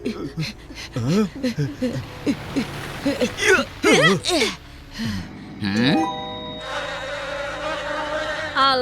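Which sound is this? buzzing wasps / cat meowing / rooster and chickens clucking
buzzing wasps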